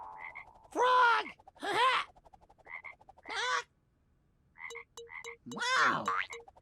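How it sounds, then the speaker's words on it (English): Cartoon frog croaking in an animated children's clip, several short bursts of croaks spaced across the clip alongside light musical tones and plinks, close and fairly loud. "Frog!"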